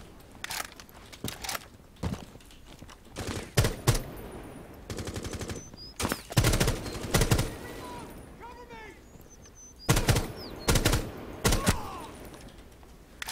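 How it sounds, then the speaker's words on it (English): Gunfire in the video game Rainbow Six Siege, shooting through a wall: several loud bursts of automatic fire and single shots come in clusters, with quieter gaps and a player talking between them. "Can I shoot this guy through the wall? I don't know if these rounds will do it."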